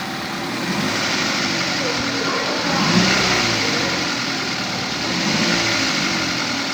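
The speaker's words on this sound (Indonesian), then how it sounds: "Kita coba gas dulu sambil digas ya." A car engine hums and revs up and down twice during a check for engine noise at a periodic service, a steady close mechanical drone swelling briefly, with a voice talking over it.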